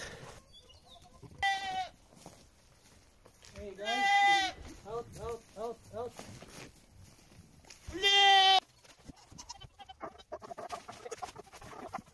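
A male goat bleats on a farm, several loud, wavering cries close by with chickens clucking faintly in the background.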